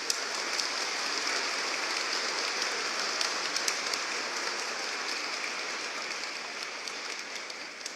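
Congregation applauding the parish choir and its conductor during a solemn Mass, a dense even patter of clapping held steadily for several seconds and fading slightly, no voices.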